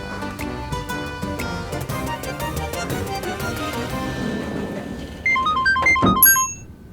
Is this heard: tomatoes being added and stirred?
no